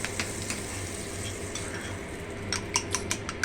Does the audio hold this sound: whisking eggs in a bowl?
yes